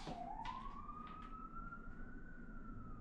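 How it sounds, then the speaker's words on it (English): A single emergency vehicle siren winds up from low to a sustained high wail, faint and distant beneath a steady background hum, with no one talking. "The casual sirens."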